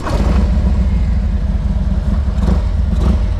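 A 2023 Harley-Davidson Road King Special engine idles loud and close with a throaty, pulsing rumble and a couple of light blips of throttle.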